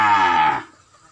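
A single deep, drawn-out moo from a cow at the La Hai cattle market, loud and close, fading out after about half a second into quiet.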